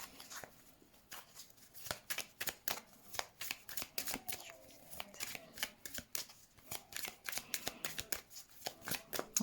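Cards being shuffled for a card reading, with a rapid, crisp run of riffling flicks that repeats in close bursts and rhythmic pulses across the whole stretch, alone and close.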